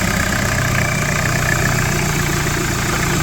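A used VW 1900 TD diesel engine idles, a loud, close, steady rumbling clatter with an even low throb and no talk.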